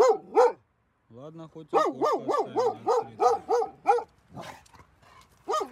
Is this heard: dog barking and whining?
yes